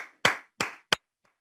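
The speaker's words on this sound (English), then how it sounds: "So I ask you now to put your hands together." Three sharp, separate hand claps in a room during a talk on public speaking, evenly spaced with short ringing tails, the last one quicker and shorter, followed by a very faint fourth tap and then silence.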